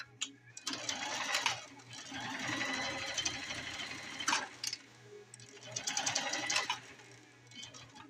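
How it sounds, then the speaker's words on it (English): A sewing machine runs a reverse stitch on a shop apron, its rapid mechanical whir coming in steady bursts with short pauses between runs, close and fairly loud. "So I'll do a reversing stitch here."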